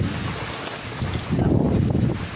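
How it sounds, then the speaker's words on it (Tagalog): Strong typhoon wind (Typhoon Uwan) roars and buffets the microphone in a loud, continuous rush that surges even harder partway through, strong enough to tear off a neighbor's roof. "napakalakas na po ng hangin"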